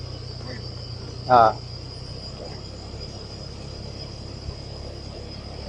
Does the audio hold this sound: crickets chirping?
yes